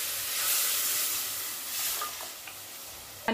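Cooked, whisked dal hits hot oil with roasted red chilli powder, giving a loud bright sizzle and steamy hiss that gradually settles.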